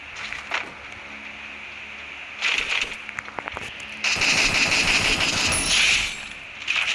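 Gunfire in a video game shootout, with bursts of shots over steady game ambience and engine-like background noise, louder and denser in the second half, with no talking.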